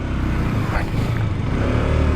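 A 200cc KTM RC 200 motorcycle with a quick shifter runs on a racetrack, its engine a loud, close, steady buzzing drone with no break.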